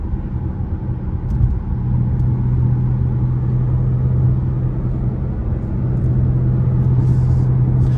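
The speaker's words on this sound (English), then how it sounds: "Put your window up. Oh, you know, get all this wind noise, and you can hear the car a little better." Steady low road rumble and engine drone from inside a closed Ford Mustang Bullitt, a muffled hum with a faint tonal whine rising and falling.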